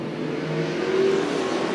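Street stock race cars at Orange Show Speedway accelerate together on a restart, a steady, dense engine roar with a rising tone, no voices over it.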